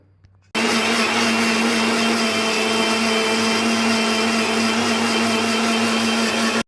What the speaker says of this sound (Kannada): ಎರಡು ಕಪ್ ಆಗುವಷ್ಟು ಓಡಿಸ್ನ ಮಿಕ್ಸರ್ ಜಾರಿಗೆ ಹಾಕೋತಾ ಇದ್ದೀನಿ